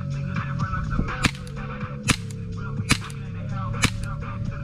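A BB gun fires .20 pellets in an abandoned building, giving four sharp, loud cracks spaced about a second apart over a steady low hum and faint background noise.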